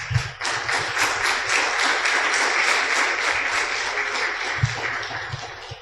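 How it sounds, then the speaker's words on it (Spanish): Congregation applauding in church during a sermon, sustained dense clapping with a steady rhythmic pulse of synchronized claps running through it, close and fairly loud, with low thumps underneath. "Dese un aplauso."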